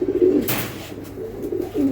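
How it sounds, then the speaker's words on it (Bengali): Racer pigeon cooing close by, a few soft low coos spread across a short stretch with a brief rustle in between. "অনেক সুন্দর একটা কবুতর"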